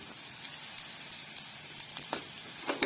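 Onions and green chillies fry in a hot pan with a steady, close sizzle and a few brief crackles and pops toward the end.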